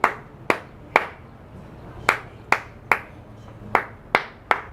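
A student's hand claps in a digital electronics classroom, about ten sharp, distinct claps in an uneven rhythm, close and crisp against a quiet room with faint background hum.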